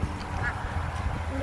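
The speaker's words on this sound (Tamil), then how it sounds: "நம்மளுடைய வாத்து 2 பேரும் வாக்கிங் போயிட்டுருக்காங்க." Ducks quack faintly over a low rumbling background, a few short calls scattered through the clip.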